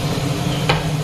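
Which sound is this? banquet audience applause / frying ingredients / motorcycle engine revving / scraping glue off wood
frying ingredients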